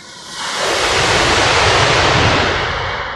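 Ocean waves of the open sea rolling in as a loud, broad wash of surf that swells up after a quiet start and holds steady, roaring with no voices.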